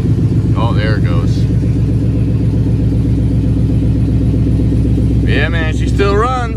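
An old truck engine fitted with headers idles with a loud, steady, throbbing rumble close by, and people talk over it at the start and again near the end.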